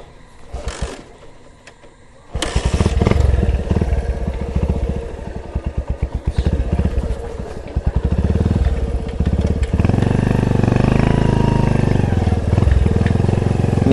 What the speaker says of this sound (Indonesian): Ini jalan satu motor ya tentunya.